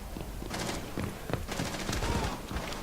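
A frag grenade and gunfire ring out in a tactical shooter match, bursts of rapid shots crackling in quick clusters at moderate distance, mixed with faint game ambience and a little talk.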